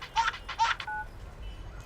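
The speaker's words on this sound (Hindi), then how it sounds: "गुरु घंटी बज रही है। अभी बजा के गया हूँ। अरे मैं फोन की बात कर रहा हूँ।" A phone rings in a film scene with two short trilling electronic bursts followed by a brief steady tone, clear against a quiet background.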